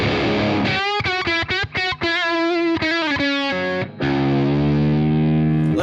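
An electric guitar played through a Valeton DS-10 distortion pedal into a cranked Vox AC50 amp rings out in loud, saturated chords with choppy stops, then one sustained chord left to ring.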